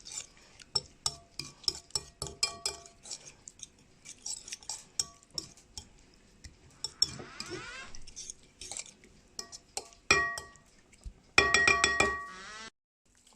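A spoon stirs and clinks against a bowl of courgette gratin mixture with grated gruyère, a run of irregular scraping taps followed by louder bursts of metal-on-dish clatter near the end.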